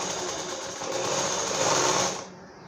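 A sewing machine stitches a folded strip on a designer blouse, a close, continuous whirring hum that rises slightly in pace and then cuts off near the end.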